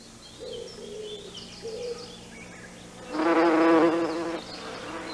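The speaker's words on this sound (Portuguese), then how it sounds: "Atrai as abelhas primeiro para os dedais de baixo," Bees visit foxglove flowers, with faint intermittent buzzing at first, then a loud close droning buzz for about a second as a bee works the flower, over quiet outdoor ambience with distant birdsong.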